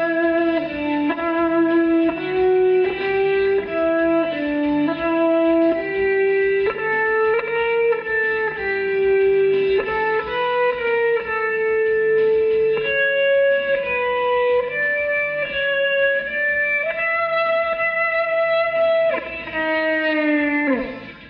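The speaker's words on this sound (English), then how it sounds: "the last part we're going to look at is the little reverse delay solos" An electric guitar plays a sustained melodic line with reversed, swelling notes that fade in rather than attack, soaked in delay and light distortion, continuous and loud.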